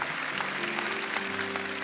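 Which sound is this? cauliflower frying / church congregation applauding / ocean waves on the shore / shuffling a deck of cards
church congregation applauding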